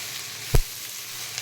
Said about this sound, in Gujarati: એમાં ભીંડા એડ કરી દીધા આપણે અને હવે એને હલાવી લઈશું